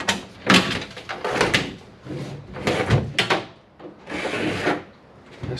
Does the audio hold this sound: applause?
no